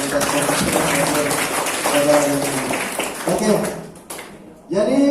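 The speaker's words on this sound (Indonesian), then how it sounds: "Tepuk tangan dulu untuk Fakultas Komputer" A seminar audience at an Indonesian technology university applauds the Faculty of Computer Science, with dense clapping filling most of the moment under a speaking voice before it fades.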